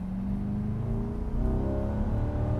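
A 2024 Corvette E-Ray's V8 engine in its loudest exhaust mode gives off a low, steady burbling rumble up close, with the pitch rising slightly partway through.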